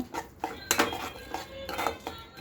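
A spoon stirs a sandwich gravy mixture with coriander and spices in a bowl, making a quick series of light metallic clinks and scrapes at close range.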